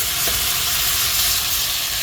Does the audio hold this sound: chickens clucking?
no